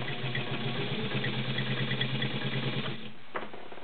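A heavy-duty vintage White Model 265 sewing machine with a size 16 needle and walking foot stitches through a couple of layers of leather, running steadily and loudly for about three seconds before stopping.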